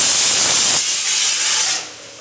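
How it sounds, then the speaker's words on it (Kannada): A pressure cooker releasing steam through its whistle, a loud steady hiss close by that holds for nearly two seconds and then drops away. "4 ವಿಷಲ್ ಆಗಿದೆ, ಆಫ್ ಮಾಡ್ತೀನಿ."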